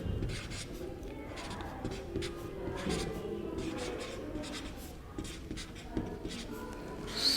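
Steady scratching of writing on a board during a physics lesson, continuous strokes and taps at moderate volume with low room noise, no clear speech.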